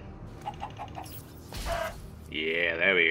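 A Minecraft chicken under attack in the game lets out a bright, warbling cluck near the end, following a few soft taps and muffled game noise.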